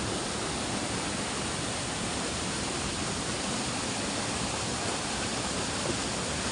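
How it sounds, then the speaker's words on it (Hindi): Loud, steady roar of a fast-flowing mountain river with a strong current in Uttarakhand, India, a dense continuous wash filling the whole clip with no pauses and no voices. "और ये जा रहा है ऐसे पानी नीचे को।"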